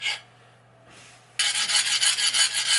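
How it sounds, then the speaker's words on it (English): A steel file is drawn along a hardened, forged 80CrV2 knife blade, first with a brief dull rasp, then a long, bright, continuous scraping stroke that skates the whole length of the blade, loud and close. "versus that right there where it's skating the file the whole entire way down"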